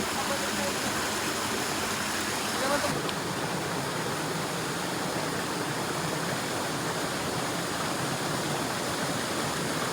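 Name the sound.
Kawa Falls waterfall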